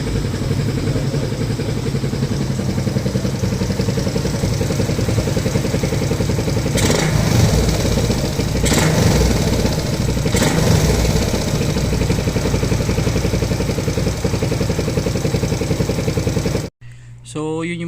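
A carbureted Raider 150 motorcycle with about 94,000 km on the odometer idles noisily and close, a steady clattering mechanical drone with a few brief revs partway through, ending abruptly.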